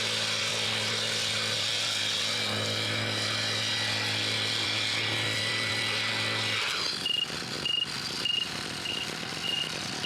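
Brush cutter mowing grass and tall cogon grass up to two meters high in a rice paddy, a steady loud engine whine that stops abruptly partway, followed by rustling and faint intermittent sounds.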